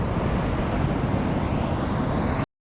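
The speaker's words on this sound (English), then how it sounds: "Look at how fat these waves are right now." Heavy ocean surf pounds a rugged Northern California shoreline, a steady loud roar of breaking waves with wind buffeting the microphone throughout, then cutting off abruptly.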